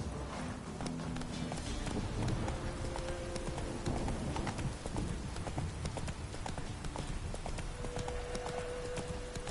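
Roach the horse galloping in The Witcher 3, a fast, continuous drumming of hooves close by with a faint music-like tone underneath and no talking.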